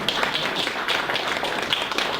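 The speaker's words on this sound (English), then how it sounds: "let's give Jamie Michelson from SMZ a round of applause" A lecture audience applauds a speaker, producing a steady, dense patter of many hands clapping throughout with no talking.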